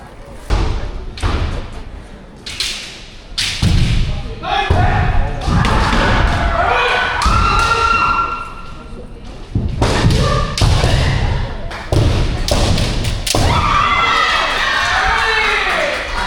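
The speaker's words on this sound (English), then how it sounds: "Looks like some martial arts going on here of some sort." Martial arts practice produces repeated heavy thuds and slams, irregular and close, over a background of crowd noise, with some voices mixed in.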